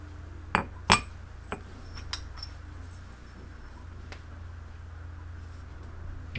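A cast iron piston ring is moved inside the cylinder of a small V-twin model engine, giving a few sharp metallic clinks and taps near the start, then faint scattered ticks over a quiet background hum.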